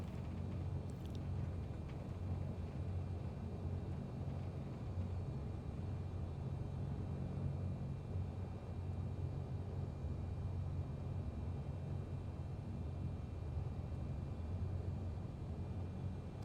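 Steady low engine rumble of a light aircraft in Microsoft Flight Simulator, a continuous droning hum that runs unbroken and without talk while the plane taxis and flies from Blackpool toward Walney.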